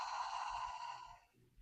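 A slow, steady exhale out through the mouth during a guided breathing meditation, a soft breathy whoosh lasting over a second before fading to a faint, quiet breath.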